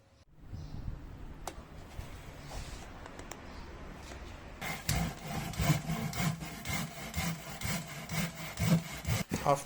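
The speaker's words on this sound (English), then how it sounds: "After, I started cutting the piece with my cheap jab saw and shaping it with my trusty rasp." Cheap jab saw cutting through laminated wood for a round side table, giving steady rasping strokes that start quieter and grow louder and busier partway through, with no talk.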